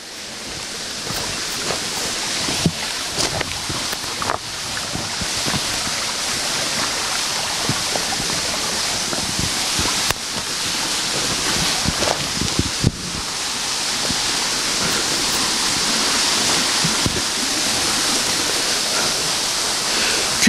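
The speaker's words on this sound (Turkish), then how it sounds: "İşte şimdi şelale hemen arkamızda." A small waterfall in a forest gives a steady, full rushing hiss of falling water, close and constant throughout with occasional faint knocks, and no voices.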